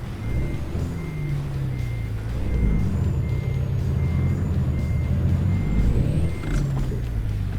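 Reversing beeps sound at a steady, evenly spaced rhythm over a continuous low truck engine rumble while a big rig backs up in American Truck Simulator, hauling a lowboy trailer through Texas.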